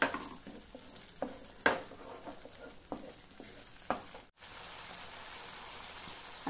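Ground spice paste with cumin sautéing in a hot pan for dhaba-style methi malai matar: a steady close sizzle with sharp scraping stirs every second or so, a brief pause, then continuous frying without talk.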